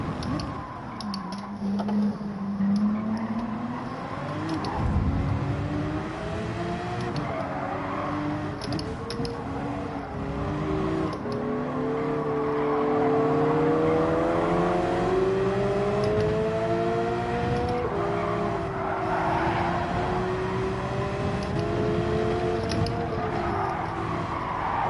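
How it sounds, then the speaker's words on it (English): In Gran Turismo 7, a loud race car engine drones close behind the player's car, its pitch climbing and falling as it revs, steady and continuous without any talk. "A noisy big car behind us."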